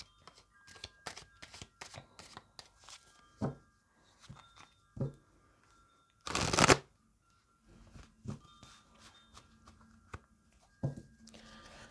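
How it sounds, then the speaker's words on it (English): Tarot cards being handled and shuffled in a card reading, a series of soft riffling flicks and taps spaced irregularly, with one louder burst of quick riffling in the middle, close and quiet, without talk. "We're going to have to pull more cards and find out."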